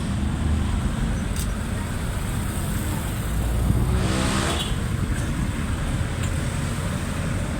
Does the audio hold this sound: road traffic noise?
yes